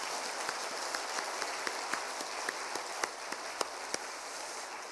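A church congregation at a Wednesday worship service claps together in a fast, even patter, moderately quiet and roomy, with some louder single claps cutting through the steady wash.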